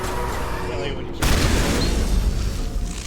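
Weapon fire in the video game Mass Effect hits with a sudden heavy boom partway through, followed by a loud, rumbling stretch of continued shooting over a steady game backdrop.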